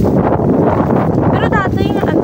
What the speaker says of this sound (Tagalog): Dan, grabe ka, baskog ang hangin.